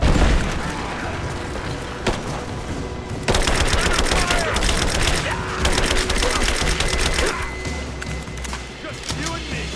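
Heavy gunfire in a Rise of the Tomb Raider finale battle: dense, rapid volleys of shots, loud and close, with long sustained bursts and no speech.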